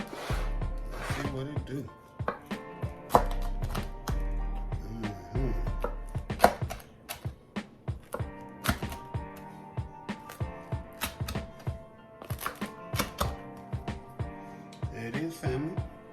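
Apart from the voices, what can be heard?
cutting crispy cheesy garlic bread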